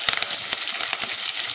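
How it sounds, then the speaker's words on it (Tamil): Spices splutter and crackle in hot oil in a pan while a Chettinad okra curry is being cooked, a dense, close sizzling hiss broken by sharp popping bursts. "நல்லா பொரிஞ்சிருச்சு."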